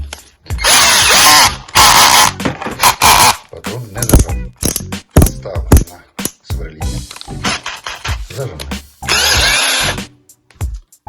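RZTK RD 1220Li cordless drill-driver with two speed settings, running in repeated loud whirring bursts of a few seconds each, separated by short pauses and clicks, close up with no talking.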